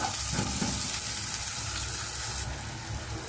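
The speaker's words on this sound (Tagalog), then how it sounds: "maggisa na tayo ng ating sibuyas, bawang at saka luya" Onion, garlic and ginger sauté together in a pan for squid adobo, giving a steady close sizzle and crackle with occasional stirring scrapes, no voices.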